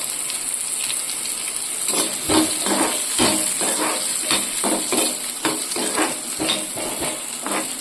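Fennel seeds and spices sizzle and crackle in a hot pan on low heat, with a spoon stirring and scraping in irregular strokes; steady frying hiss throughout, no voices.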